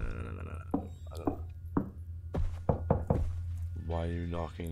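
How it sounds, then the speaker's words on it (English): Sharp knocks on a door in the horror video game Visage, several irregular thuds spread across the moment, close and loud, mixed with speech. "Why are you knocking like that?"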